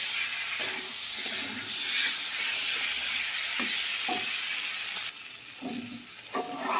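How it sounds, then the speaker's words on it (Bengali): Fish pieces sizzle and fry steadily in a pan of cooked-down spice paste for a shankar fish curry, with a constant close hiss and a few soft stirring clacks from a spoon. "এবারে আমি মাছগুলো দিয়ে দেবো এর মধ্যে দিয়ে একটু কষাবো"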